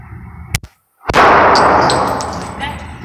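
A handgun fired at an outdoor gun range: one sharp, loud gunshot cracks close by, followed by a long rolling echo and reverberation that slowly decays.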